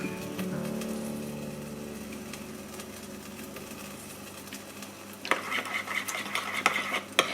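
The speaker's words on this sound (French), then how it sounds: "J'ajoute du citron. Je mélange tout ça." Spoon stirring a sauce of sesame purée and lemon in a bowl, heard as a soft, steady, close scraping swirl that gets brisker and louder near the end.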